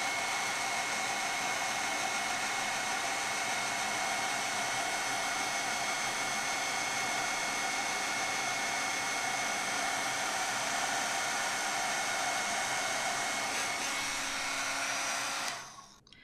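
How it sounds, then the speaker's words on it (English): A heat tool melts embossing powder on a greeting card with a steady, loud blowing whir held for about fifteen seconds. It then cuts off abruptly. "I'll get my heat tool and we'll melt this."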